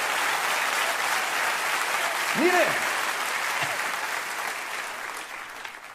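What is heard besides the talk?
audience applause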